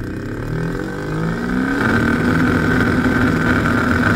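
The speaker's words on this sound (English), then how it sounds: "So, not sounding the greatest. Definitely an issue with the pump." A faulty BMW E60 electric water pump runs dry on a bench test, putting out a loud, steady motorized whine with a rough buzzing edge. It ramps up partway through and then holds a constant higher pitch, with no talking.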